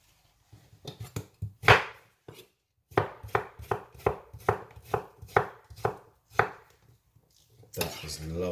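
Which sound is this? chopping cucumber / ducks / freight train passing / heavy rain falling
chopping cucumber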